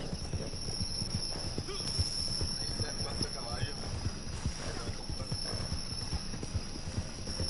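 A horse gallops in a video game, its hooves beating a quick, steady clip-clop rhythm at moderate distance under continuous background game ambience, fairly faint.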